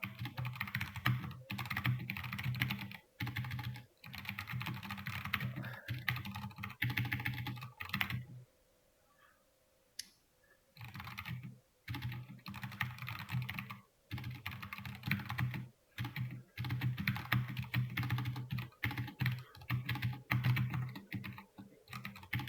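A computer keyboard clatters with rapid, uneven typing and key presses during a Linux lesson, close and crisp, with one short quiet pause midway.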